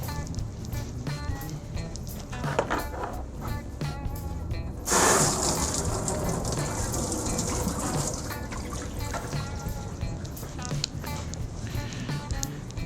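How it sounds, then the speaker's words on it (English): Tap water running in a steady stream on a homebrew brewing setup, used for wort cooling, a continuous trickle and flow with a brief louder gush partway through, with faint handling noises. "So I'm gonna turn my water on."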